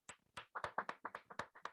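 Audience clapping at a motivational talk in India, heard as about a dozen distinct, fairly quiet claps in an uneven rhythm rather than a full ovation.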